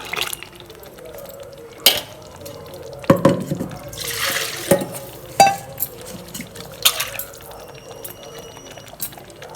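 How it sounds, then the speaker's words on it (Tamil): Water poured and splashing while a blender jar is rinsed out in a home kitchen during duck gravy preparation, a steady close trickle broken by several louder clunks and splashes. "ஜாரை கழுவி ஊற்றிக்கலாம்"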